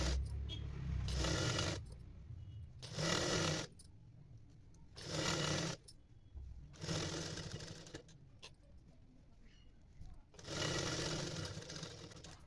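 Sewing machine stitching a double-folded hem on a skirt, running in five or six distinct bursts of a few seconds each with short pauses between, close and fairly quiet.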